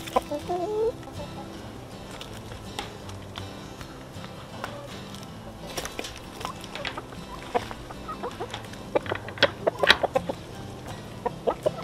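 Chickens cluck and squawk inside a roomy new DIY coop, a steady scatter of close, moderately loud calls and rustling with no talking.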